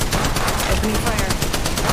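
Fast automatic gunfire crackles through a firefight in the mobile shooter Apex Legends Mobile, a loud, tightly spaced stream of shots, with game voice lines speaking over it.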